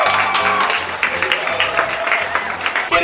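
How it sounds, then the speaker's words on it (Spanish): Audience applause for a guest on a Christmas MasterChef episode: dense, steady clapping lasting about three seconds, fairly loud throughout, with a low tonal hum running beneath it. "Un aplauso, por favor, para el invitado."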